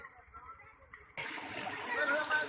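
Water from a solar-powered 4-inch tube well pump in Pakistan, a sudden strong, continuous gushing rush that starts partway through after someone speaks, loud and close.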